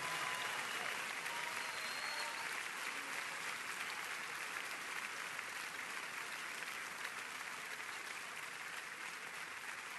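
A church congregation at an evening worship service applauds loudly and steadily, a dense wall of clapping that holds at an even level throughout.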